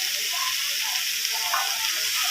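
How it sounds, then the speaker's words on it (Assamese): Pieces of chicken and banana flower fry in hot oil in a pan, giving a continuous bright sizzle that stays steady and close for a couple of seconds, with faint stirring scrapes underneath and no voices. "চিকেনৰ পৰাই তেল ওলাইছে আৰু এয়া ফ্ৰাই হৈছে"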